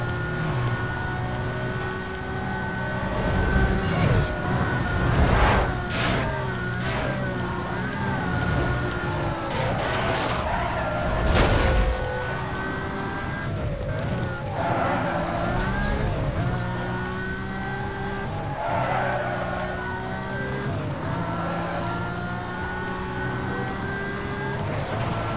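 A Lamborghini engine in Need for Speed Most Wanted drones steadily for a long stretch, pitch rising and falling with gear changes and acceleration, with occasional sharp impacts and whooshes layered over the continuous roar.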